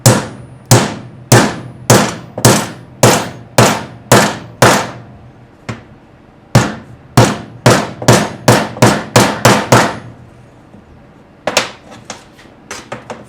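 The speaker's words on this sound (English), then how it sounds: "We're going to take our hammer." A hammer strikes a copper battery terminal tab in a series of sharp, loud metallic blows, roughly a dozen in quick rhythm, then a pause and another fast run, ending in softer clinks.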